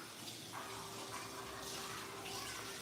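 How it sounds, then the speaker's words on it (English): Tap water runs steadily as hands are rinsed at a kitchen faucet while cooking bison ragù ravioli, a continuous close, even splashing hiss with no voices. "which requires me to wash my hands"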